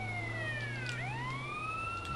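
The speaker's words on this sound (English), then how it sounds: "Turn the fucking sirens off." A wailing police siren in GTA San Andreas sweeps up and down steadily over a low engine hum, loud and close, with no voices.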